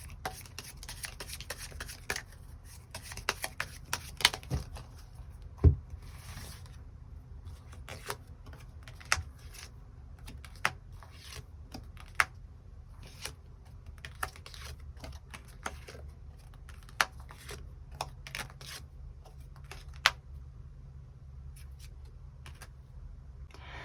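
Extra tarot cards are drawn and laid down, giving faint, sparse clicks and sharp little taps scattered across a quiet background with no speech.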